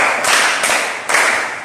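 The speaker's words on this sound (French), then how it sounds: "Applaudissez pour vous." An audience in a sales seminar room bursts into loud, close applause, dense clapping that swells in two waves with a brief dip between.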